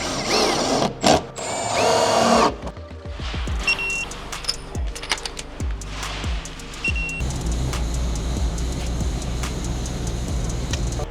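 A power drill drives self-tapping screws into a Subaru WRX body panel, heard as several short, close whirring bursts with pauses and clinks in between.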